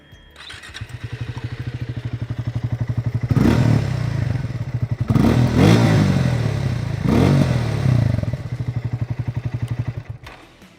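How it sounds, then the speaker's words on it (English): A Triumph Speed T4 motorcycle idles with a deep, bassy, burbly exhaust pulse, then is revved in three strong bursts that rise and fall before it settles back to a steady, thumping idle, heard close up. "the exhaust note on the Speed T4 has more bass and has a burbly character to it"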